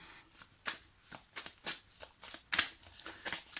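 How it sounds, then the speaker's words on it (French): Tarot cards are shuffled and drawn by hand, a string of crisp riffling flicks and soft slaps in an irregular rhythm, close and fairly quiet, with no talk. "Prendre une autre carte pour voir ce qui ressort."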